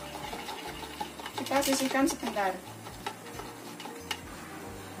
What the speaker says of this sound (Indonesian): Ini suara berisiknya itu dari panci waktu kita ngukus ubinya ya.